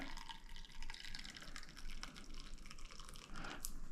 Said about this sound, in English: So I'll just pour this in here,